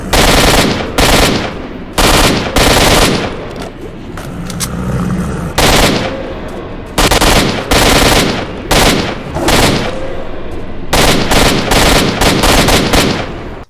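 Loud, close automatic gunfire from the shooter game S.T.A.L.K.E.R. Shadow of Chernobyl, rattling in repeated rapid bursts separated by short pauses with quieter ambient game noise in between.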